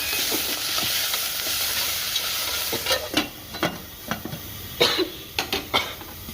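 Curry leaves, dried chillies and tomato go into a hot AMC pot, giving a steady sizzling hiss followed by a run of close stirring scrapes and clinks.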